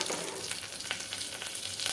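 Curry leaves crackle and sizzle in hot oil while tempering a quick dal, a continuous soft frying hiss with scattered pops, fairly quiet and close, with no voices.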